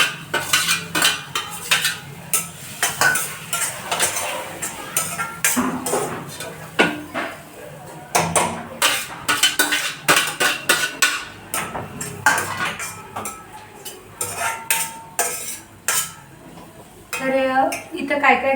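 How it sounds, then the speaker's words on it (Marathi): Grated sweet potato roasted in ghee, stirred with a metal spoon in a pan: repeated scraping and clinking strokes, close and fairly loud, with a faint sizzle underneath and no talk. "हे जे आहे ना रताळ आपण किसून घेतलेले हे हलकेसे असे भाजून घेणार आहे तुपामध्ये"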